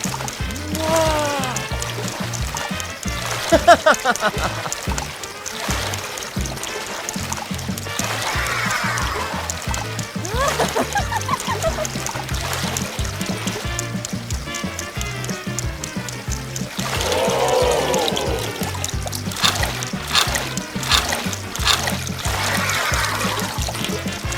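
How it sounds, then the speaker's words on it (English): Water trickles and splashes continuously as it circulates through a LEGO pump system linking tanks in a loop, with a steady rhythmic pump beat underneath and occasional louder splashes. "The water travels from one tank to the next, making its way through the entire system in one continuous loop."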